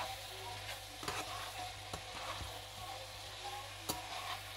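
Mushrooms frying for mushroom curry, a faint steady sizzle with a few sharp clicks and scrapes of a spoon stirring the pan.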